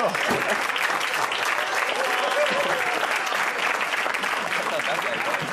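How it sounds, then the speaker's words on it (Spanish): Steady, dense applause from a studio audience on a Spanish comedy quiz show, loud and continuous throughout with no break. "¡Aplauso!"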